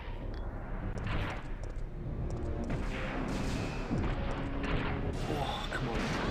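Explosion of a wall in the PlayStation game Resident Evil 3, heard as heavy rumbling booms and crashing debris that continue through the clip, with someone talking over the game sounds.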